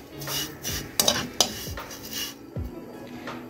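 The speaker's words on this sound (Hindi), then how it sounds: "140 ग्राम सेवैयाँ ऐड कर दूंगी और बिल्कुल लाइट ब्राउन होने तक पकाऊंगी" Vermicelli toasts in a pan until light brown while a utensil stirs and knocks against the metal in a few sharp clinks, with a faint dry sizzle underneath and no voices.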